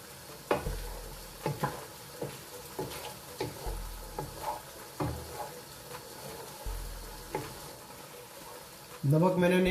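A spoon scrapes rhythmically through Degh-style shahi chicken korma in a pan as newly added coriander and cumin powder sizzle softly, with repeated stirring strokes and a louder burst of frying near the end.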